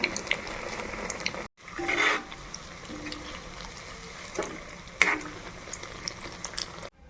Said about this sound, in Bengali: তেল একটু হালকা গরম হয়ে আসলে এরপর একে একে এইগুলি দিয়ে ভেজে নেব